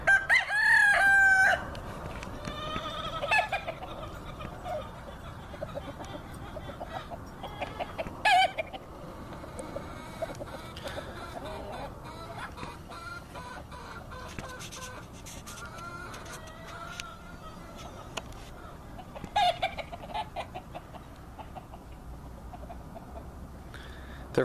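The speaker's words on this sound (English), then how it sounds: "There's the big rooster." Game fowl roosters crow and cluck in a noisy outdoor setting, with a loud crow at the start and further crows and clucks scattered through, some nearer, some farther.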